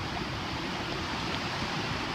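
Steady broadband wash of waves rolling in on Grayton Beach on a rainy day, a constant hiss with no distinct breaks, moderately loud and alone without voices.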